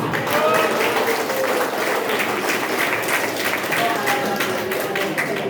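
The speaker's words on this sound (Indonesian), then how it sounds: "Tepuk tangan." Audience applause breaks out after a motivational speaker's punchline about leaving home with a suitcase, a steady, dense wash of clapping filling the room with some voices mixed in.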